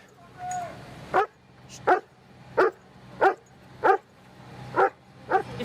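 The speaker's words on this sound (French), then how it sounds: "Hélène et Stéphane sortent alors leur chien pour disperser l'attroupement avant son arrivée." A police dog barks at a crowd gathered near a vehicle fire, giving eight sharp, evenly spaced barks about a second apart after a short whine. A faint murmur of voices sits in the background.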